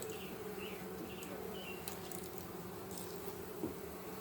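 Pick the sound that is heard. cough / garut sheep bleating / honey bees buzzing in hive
honey bees buzzing in hive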